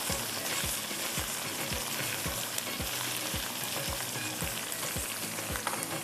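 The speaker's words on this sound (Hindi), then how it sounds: "भिंडी को हल्का सा फ्राई कीजिएगा, ज़्यादा ना कीजिएगा।" Okra frying in a pan, a dense continuous sizzle and crackle of hot oil with repeated soft stirring knocks spaced through it, close and steady throughout with no talk.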